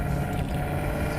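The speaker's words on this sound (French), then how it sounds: "Ce qui est sympa, c'est le bruit du moteur," A GT car engine drones steadily while driving, with wind rush and road noise layered over the engine note and no voices.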